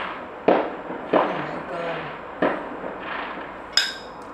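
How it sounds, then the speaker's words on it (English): Daytime fireworks burst in the distance: four or five separate sharp pops spaced a second or so apart, each with a short echoing tail, over quiet outdoor background. "Remember when I told you there was daytime fireworks?"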